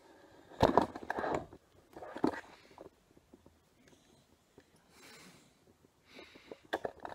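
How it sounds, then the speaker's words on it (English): Heavy breathing and snorting from a boy, a few loud bursts of breath and sniffs near the start, then quieter irregular breaths with pauses between them. "If you can hear that heavy breathing, it's not me"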